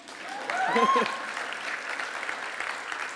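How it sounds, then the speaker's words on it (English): A session audience breaks into clapping, swelling quickly and then settling into steady applause, with a cheer or whoop rising briefly near the start. "Go ahead, you can clap for that."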